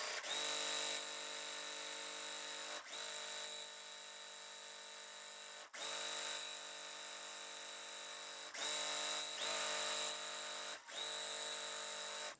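A sewing machine stitches quarter-inch seams on a quilt block in steady, high-pitched whirring runs, broken into several bursts by brief pauses, close and fairly quiet, with no talking.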